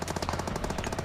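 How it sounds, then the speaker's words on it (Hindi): Rapid automatic gunfire from the mobile battle-royale game PUBG Mobile crackles in quick, steady bursts, loud and continuous with no talk. "बगल पे बंदे अपार्टमेंट पे बैठे, ये देखो गोली चला रहे"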